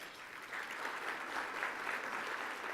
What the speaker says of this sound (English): Big clap for those guys.